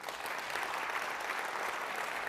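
Steady applause from an audience at a talk on art, technology and the climate crisis, as people clap to show they own an electric vehicle; a dense, even wash of many hands, moderately distant and continuous throughout.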